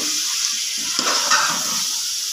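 Tinde (apple gourd) frying in a pan, giving a steady loud hiss and sizzle with soft stirring noises close by, no voices.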